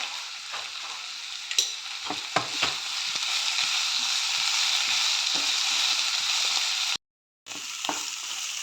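Onions and green chillies sauté in a pan for a Kerala-style pepper chicken curry, giving a steady, close sizzle with scattered spoon scrapes and knocks. It breaks off briefly near the end, then resumes.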